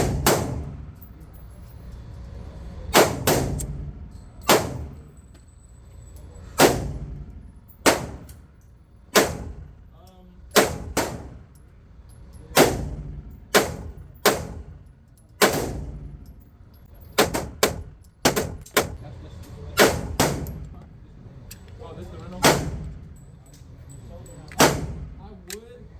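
Pistol shots ring out at a shooting range from a ported CZ P-10 C and a S&W M&P Compact, loud sharp single reports in irregular strings and pairs, each followed by a brief echoing decay.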